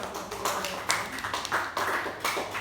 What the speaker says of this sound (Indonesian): Untuk masing-masing kasih tepuk tangan dulu lah